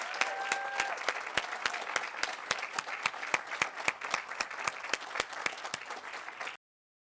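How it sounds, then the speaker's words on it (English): A school closing-ceremony crowd gives a long round of applause for a graduating class, dense steady clapping with a few sharp nearby claps standing out, ending abruptly. "one huge final round of applause."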